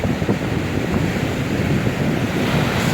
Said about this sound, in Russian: смотрите, какие волны классные